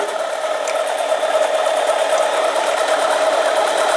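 Harbor Freight 7x10 mini lathe cutting 304 stainless steel, a loud, steady motor drone and tonal cutting whine holding constant throughout, with no voices.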